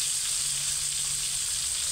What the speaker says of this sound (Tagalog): Mabilis lang mag-prito na hindi tumatalsik guys.